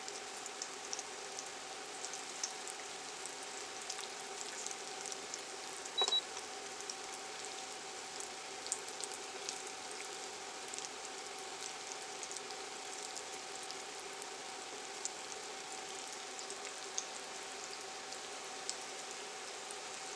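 Breadfruit balls frying in oil, a faint steady crackling sizzle with tiny pops, constant throughout with a low hum beneath.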